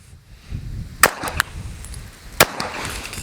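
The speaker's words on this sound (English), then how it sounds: "we're just going to shoot at the berm here, pick a rock" Two sharp Glock 17 Gen 6 pistol shots fired into a dirt berm at an outdoor range, loud and close, about a second and a half apart, with quiet range ambience between them.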